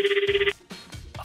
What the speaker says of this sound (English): A phone call at 9 p.m.?